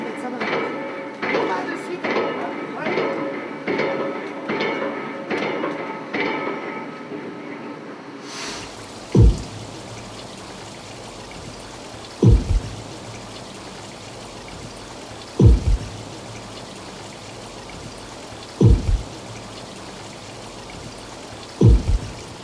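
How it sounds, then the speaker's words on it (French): Pile-driving sounds are played underwater in test tanks, heard as a run of rapid pulsing knocks followed by five loud, evenly spaced booming thumps a few seconds apart. "on est en train d'émettre différents types de sons, en particulier des sons de battage de pieux"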